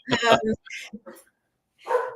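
A household dog barks a few short, close yips in quick succession while a person talks nearby.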